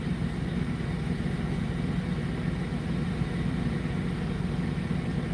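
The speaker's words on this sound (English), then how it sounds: "my engine's gonna blow up" Truck engine idling steadily inside an over-the-road rig, a continuous low rumble with a dense drone that holds level throughout, close and alone with no talk.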